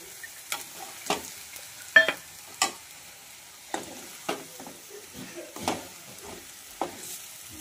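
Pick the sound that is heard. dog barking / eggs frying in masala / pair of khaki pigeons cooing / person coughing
eggs frying in masala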